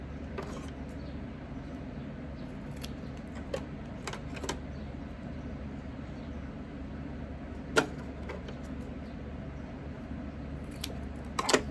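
Scissors snip through fabric bias tape with a few sharp, separate cutting clicks spread over a quiet room tone, close by and with no talking.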